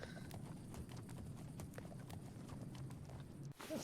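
Horse hooves gallop steadily in the video game Legend of Khiimori, a dense, continuous clip-clop close up under low rumbling ambience, without pause until a brief dip near the end.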